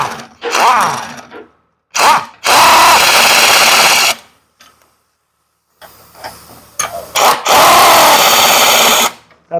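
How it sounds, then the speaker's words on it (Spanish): A pneumatic impact wrench tightens bolts on rear auxiliary leaf-spring clamps in loud hammering bursts of a few seconds each, separated by silent pauses, close and without talk. "Con ayuda de una llave de impacto neumática, vamos a hacer esa operación."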